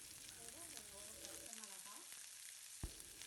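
Finely chopped large onion sautéing in hot oil in a pan, a soft continuous sizzle with light stirring scrapes and a faint tonal sound over it, one sharper tap near the end.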